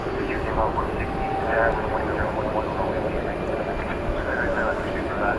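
An American Airlines Airbus A321 jet on a night departure toward Calgary gives a steady, moderate engine rumble with faint chirps and ambient airport noise.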